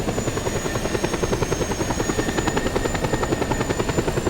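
A helicopter flying in the video game Just Cause 2: steady rapid rotor chop over a constant engine whine, loud and close, with no voices.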